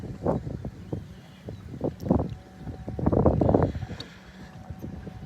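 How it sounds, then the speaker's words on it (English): Gusty wind buffets the microphone in uneven bursts, rising and falling over a low outdoor rumble, with no voices. "It's windy today."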